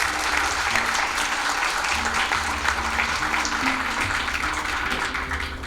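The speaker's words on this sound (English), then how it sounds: "may I request you to give a big round of applause" A big round of applause from the audience at an event honouring Justice Dilip B Bhosale: sustained, dense clapping at full strength, with a low hum of background sound underneath throughout.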